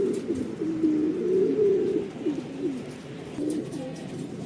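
Racing pigeons arriving at the loft, steady low cooing from several birds close by over a continuous outdoor background hum, with no talking.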